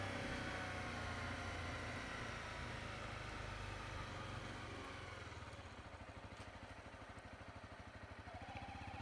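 A Honda CRF 250L motorcycle on knobbly tyres chugs along at slow speed, a steady low engine thrum with a rhythmic pulsing putter that grows more distinct toward the end, heard close and without talk.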